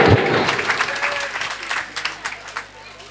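Audience applause for a senior teacher invited onto a stage at a school event, a burst of clapping that starts strong and thins to scattered claps, fairly close.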